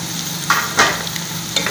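Capsicum sizzles steadily in a hot pan of chicken jalfrezi while a spoon stirs it, the close, constant frying hiss broken by a few soft scraping strokes.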